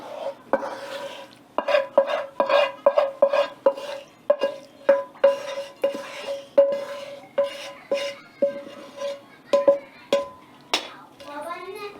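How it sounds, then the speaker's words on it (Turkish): Soaked bulgur being stirred and mixed into a prepared filling for Turkish kısır, a steady series of close spoon scrapes and taps against the bowl, roughly twenty strokes in an even rhythm. "Şimdi bu yaptığım içle buluşturacağım bu bulguru."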